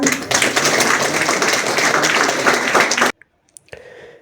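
An audience at a welcome program at a Japanese language school breaks into dense, loud applause for about three seconds, then it stops abruptly and only a few scattered claps and taps follow.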